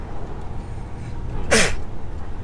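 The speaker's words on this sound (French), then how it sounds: "Oh ben j'éternue." A single sharp sneeze bursts out close by, loud and brief, from a person dressed and about to head out riding an electric mountain bike outdoors, with a steady low background hum before and after.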